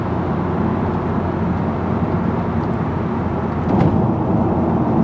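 A roughly 20-year-old car hums and rumbles from the inside while driving, giving a steady broadband road and engine drone that swells slightly toward the end, with no talking.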